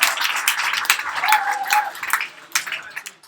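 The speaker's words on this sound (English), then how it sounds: "Give yourselves a round of applause." Moderate applause from attendees at a fintech startup weekend in Sydney, scattered claps with a brief vocal tone in the middle, tapering off before a final flurry.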